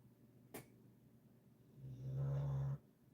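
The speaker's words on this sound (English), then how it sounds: "get yourself a nice snoring dog for the video" A dog snores nearby, one low rasping breath swelling around the two-second mark after a brief sharp click, over a faint steady background hum.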